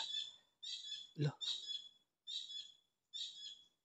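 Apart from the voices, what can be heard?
bird calling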